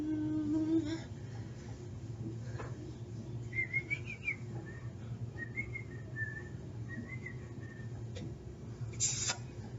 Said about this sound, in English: Sorry if I'm whistling Christmas stuff.